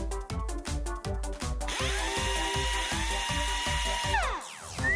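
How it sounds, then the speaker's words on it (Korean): A power drill driving screws, with rapid rhythmic bursts at first, then a sustained whine that winds down near the end; close and loud, with no talking. "너가 되면 내가 나사를 조일게."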